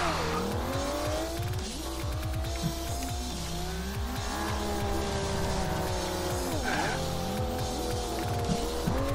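A Pagani supercar weaves through traffic in Forza Horizon 2, its engine droning loud and continuous with rising and falling revs, gear shifts and passing cars throughout, no talking.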